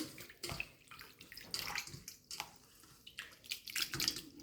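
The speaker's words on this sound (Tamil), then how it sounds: "இந்த அவலை வந்து வடிவாக பச்சை தண்ணியில் வந்து கழுவி எடுக்கணும்" Water splashes and swishes in irregular bursts close by as flattened rice is rinsed and stirred by hand in a bowl of plain water, with small drips between.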